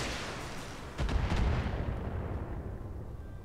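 Heavy mech weapons firing in the BattleTech video game, a loud booming impact with a rumbling blast that swells and slowly fades away.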